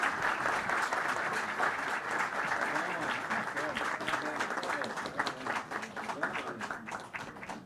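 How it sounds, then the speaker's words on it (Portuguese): A crowd at a formal ceremony applauds steadily for a chamber orchestra, many hands clapping in a dense, continuous patter that thins slightly toward the end. "Uma salva de palmas à nossa Camerata, abrilhantando esta nossa sessão solene"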